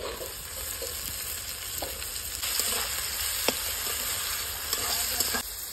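Soaked soybean chunks fry in a pan with lightly fried onions, giving a continuous close sizzle that swells partway through, broken by small crackles and the occasional scrape of stirring.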